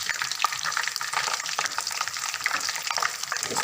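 Whole garam masala spices sizzle lightly in a pan, a steady close crackling fry with small stirring scrapes throughout, no voices.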